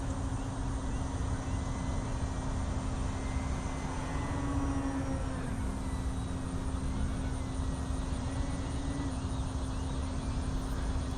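A radio-controlled FMS Ranger 1800mm model airplane drones steadily at a distance doing slow touch-and-goes, its buzzing pitch shifting slightly as it circles low, with wind noise throughout.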